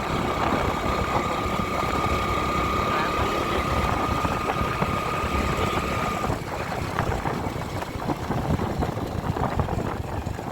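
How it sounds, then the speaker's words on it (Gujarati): A tractor's diesel engine drones steadily and loudly throughout, with a sustained tonal hum that drops away partway while the rough running continues. "ડીઝલ વાંસે નાખી પેલા ચાલુ કરી નાખી ટ્રેક્ટર જપાડે"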